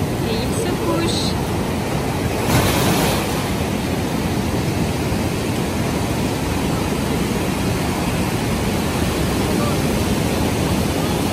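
Ocean waves breaking on the Pacific coast of Costa Rica, a loud, continuous roaring wash of surf with a brief swell of louder crashing early on.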